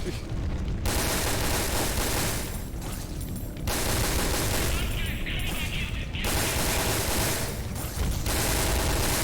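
Rapid, loud bursts of gunfire in Resident Evil: Dead Aim, with sustained volleys broken by short pauses, close and dominating throughout.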